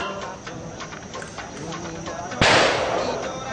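A single sharp, loud gunshot cracks out at a shooting range, ringing off into a long decaying tail after a stretch of low background murmur.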